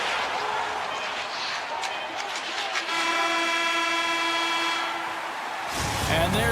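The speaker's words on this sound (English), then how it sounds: "And there's the horn, bringing the second period to an end" An eHockey video game's period-ending horn sounds as a long, sustained harmonic blast over arena noise, cutting off abruptly near the end.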